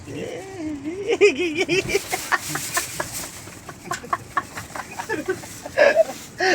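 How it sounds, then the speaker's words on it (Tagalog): Chicks peep in high, thin chirps at a farmyard, mixed with chicken clucks while people talk over them throughout. "Maraming chicks."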